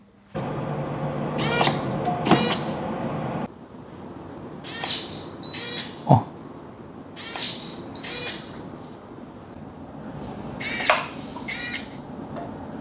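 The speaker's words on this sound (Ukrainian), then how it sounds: "ми продемонструємо наглядно, як це працює, як він натискає кнопки різні" A Maxton MX-Fingerbot-01 button-pressing robot works in repeated cycles, each a short whirring motor run followed by a click, with one sharper thud midway, close up and alone without talk.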